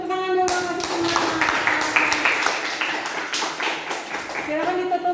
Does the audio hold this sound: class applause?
yes